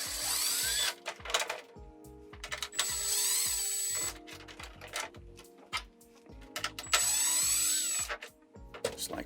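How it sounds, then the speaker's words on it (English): A cordless power drill backs screws out of a Traxxas X-Maxx RC truck, close whining bursts that start and stop repeatedly with clicks and handling noise between runs. "So let's back out all the screws."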